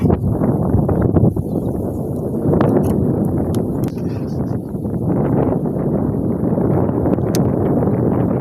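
Strong wind roars continuously against the microphone in a rice field, a loud, dense rumble with occasional clicks and rustles, and no speech.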